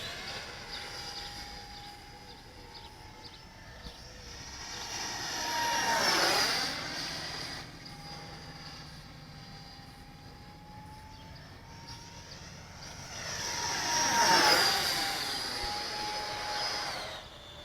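An E-flite F-15 64mm EDF radio-controlled jet flies overhead, its ducted fan whine holding steady and then swelling twice into loud passes with sweeping Doppler drops, no talk.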